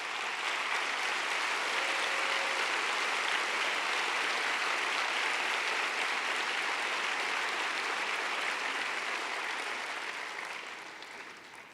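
A church congregation applauds steadily for around ten seconds: a broad, even wash of clapping that holds at a moderate level, then thins and fades toward the close.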